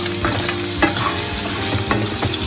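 Chili powder is stirred into sweet mango pachadi cooking in a pan, giving a loud, close sizzle with repeated spoon scrapes and knocks against the pan in an uneven rhythm and no voices.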